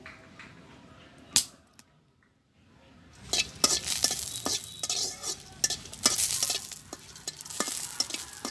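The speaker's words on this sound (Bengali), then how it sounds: "কটা শুকনো মরিচ ভেজে রাখি" Dried chillies fry in a pan after a brief quiet pause, with a sudden burst of crackling sizzle and sharp spatters, stirring clatter of utensil against the pan, close and fairly loud.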